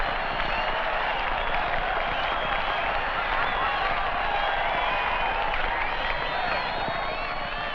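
A crowd at the 1975 World Frisbee Championships at the Rose Bowl applauds a freestyle catch with steady, dense clapping and cheering that holds loud and even throughout.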